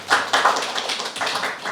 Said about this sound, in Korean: 우리 박수로 한번 환영하죠